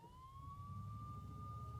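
An ambulance siren in the Family Guy video game on PS2: a single smooth rising wail that holds steady over a low engine rumble, clear and continuous with no talking.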